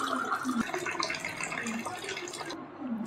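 Water is poured into pomegranate juice, a soft steady splashing and trickling close by, continuous and fairly quiet for a few seconds.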